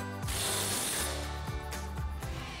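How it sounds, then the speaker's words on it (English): An impact wrench with a 17 mm socket tightens a sway bar link nut on a front suspension knuckle, giving a brief quiet burst of rattling hammering followed by a few sharp clicking impacts. "Grab your impact in your 17 millimeter socket,"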